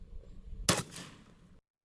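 A single sharp gunshot from a subsonic full metal jacket round cracks out loud and close, trailing off in a short decay with no voices.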